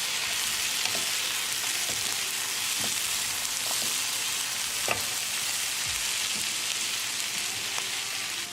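Lima beans sizzle and fry in a pan over a medium-low flame, a steady hiss with scattered soft clicks and scrapes from stirring, close and fairly even throughout.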